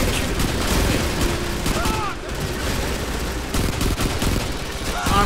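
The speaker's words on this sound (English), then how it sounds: "Wait, who the heck is shooting?" Gunfire from the war video game Frontlines: Fuel of War: dense, continuous volleys of rapid shots and booms, loud and steady throughout with no break.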